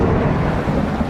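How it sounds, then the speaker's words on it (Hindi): Heavy rain pours steadily through a cartoon forest with low thunder rumbling beneath it, a dense, loud wash of sound with no voices. "बारिश रुकने का नाम नहीं ले रही थी"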